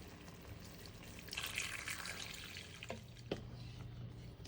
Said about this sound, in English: So now you just add your water to it.